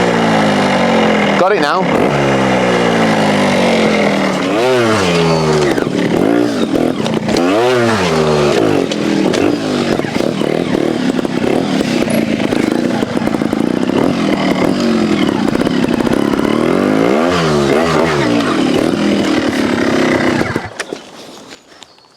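A trials motorcycle kick-starts with one kick and no throttle, then runs loud and close with rising and falling revs for about twenty seconds before cutting off abruptly, while a person talks briefly over the engine.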